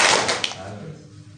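A single sharp hand clap from a children's audience at a Maulid Nabi celebration storytelling session, one loud crack at the start that quickly decays into room echo.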